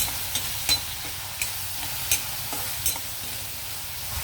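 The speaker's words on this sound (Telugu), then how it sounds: "ఒకసారి కలుపుదాం దీన్ని ఇలాగా." Prawn curry being stirred in a pan after turmeric and salt go in, with soft scraping strokes and a faint sizzle at a steady close-up level, a few light utensil clinks standing out.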